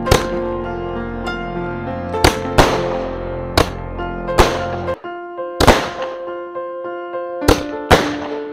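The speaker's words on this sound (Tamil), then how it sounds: "ரோல் ஷாட்ல மல்டி கலர் 12 வரை வெடிக்கும்." A string of sharp, loud multicolour roll-shot firework bursts pops off one after another at uneven intervals, each leaving a ringing, crackling tail that fades before the next.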